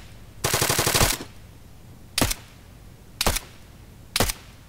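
ArmA 3 gunfire: a sharp automatic burst of roughly ten rapid shots, then three single loud reports spaced about a second apart, each standing alone against quiet background.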